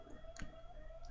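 A single faint, sharp computer mouse click sounds against quiet room hum, with no talk.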